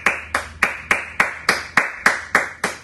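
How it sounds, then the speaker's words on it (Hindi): Strong, evenly spaced claps from an audience for the trainers at a training session, about ten sharp beats in quick, steady rhythm, close and loud with no talking. "इन पांचों ट्रेनिंग्स के पांचों ट्रेनर्स के लिए जोरदार तालियां"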